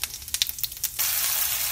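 Hot oil in a home-kitchen pan crackles with several quick pops as asafoetida and cumin seeds go in, then settles into a loud, steady, continuous sizzle close by.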